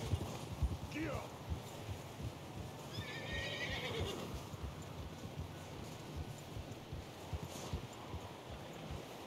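A horse in the Red Dead Redemption video game neighs near the start, then hooves clip-clop in a steady rhythm outdoors, with a faint jingle of tack and wind rustling in the background.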